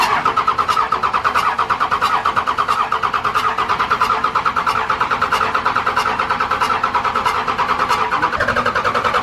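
A first-generation 12-valve Cummins diesel fitted with huge injectors cranks and runs with a steady, rapid mechanical clatter and rhythmic knocking, loud and close, holding a rough idle throughout with no talk.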